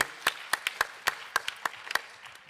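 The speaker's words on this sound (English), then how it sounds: "Let's give her a round of applause" A small audience at a conference panel on sustainable impact claps for a speaker, a sparse, close round of distinct handclaps at a brisk uneven rhythm, with no talk.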